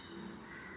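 A crow gives a single short, harsh caw, faint and alone, for a story about a thirsty crow.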